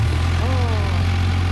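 A 2017 Kawasaki Ninja 1000 motorcycle idles close by with a steady, deep engine rumble, while people talk over it.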